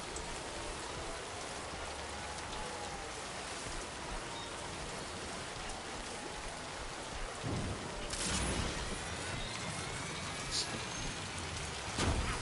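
Rain falling in the video game Death Stranding 2, a constant wash of drops hissing over the whole stretch, with a couple of louder gusting surges and faint rumbles partway through.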